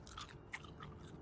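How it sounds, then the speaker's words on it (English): A character chewing gum in the game Road to Vostok, soft wet chewing and crunching sounds, close and faint, with no talk. "Yeah, ASMR chewing noises."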